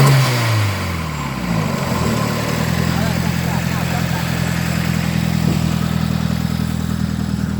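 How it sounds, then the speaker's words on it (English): A 2005 car engine, not a Spec V, idles steadily and then gets a brief rev or two, throaty and close, with a rough, slightly clattery tone. "give me a nice little rev or two"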